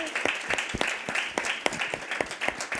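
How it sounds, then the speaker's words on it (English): Audience applause at a women-in-business event: dense, steady clapping from a room of people, fairly close and continuous throughout. "Can we just give a round of applause for Ruth as well, who did a fantastic job."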